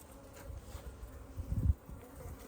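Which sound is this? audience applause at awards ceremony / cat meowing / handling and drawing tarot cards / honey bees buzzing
honey bees buzzing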